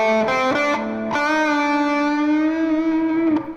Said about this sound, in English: So without the pinch, I'm showing you this part. It sounds like this, played slow.